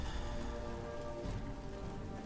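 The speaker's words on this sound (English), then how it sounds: "it's raining" Steady rain in the Fallout game's Mojave desert setting near an outpost, a dense continuous patter of drops on surfaces with no talking, even and moderately loud throughout.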